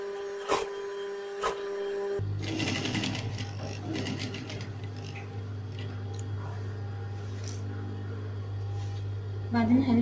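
After two brief clicks, a sewing machine starts up and runs steadily with a low motor hum and fast stitching chatter, close by, while sewing coat lining fabric for a wide shawl-collar winter coat.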